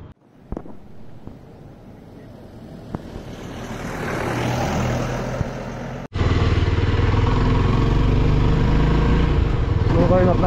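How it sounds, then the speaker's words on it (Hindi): Motorcycles, including a Yezdi Scrambler, approach on the Sach Pass mountain road, engine drone swelling as they near, then after a sharp break a loud steady close engine roar; a few faint knocks and bits of talk come early. "फाइनली वो वहां से आ रहे हैं बाइक पे"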